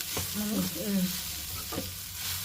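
Rice gets stirred into a cooked mixture in a pan over a soft sizzle, with a few scraping strokes from a spoon in the first second and again near the end.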